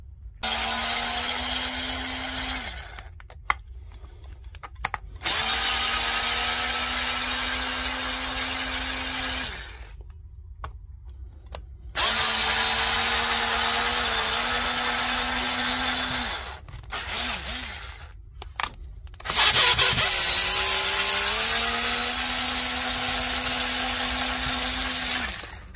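Power driver working tight screws out of a faulty Festool battery pack, several long whining motor runs with rising pitch, separated by short pauses and clicks, close and loud.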